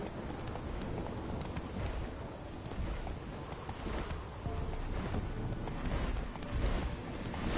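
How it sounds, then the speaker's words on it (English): Roach, the horse in The Witcher 3, gallops in a steady stream of hoofbeats that runs close and loud throughout, with no voices over it. "Horse, come to me."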